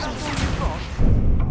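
The Incendio fire spell from Hogwarts Legacy goes off in a short, loud fiery burst. It swells over a second of rumbling game noise and then stays roaring to the end.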